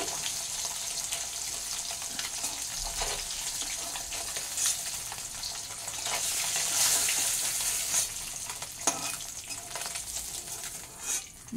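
Steady sizzling of koi fish (climbing perch) frying in hot oil, a continuous crackling hiss with occasional louder spatters and stirring as the fish are turned.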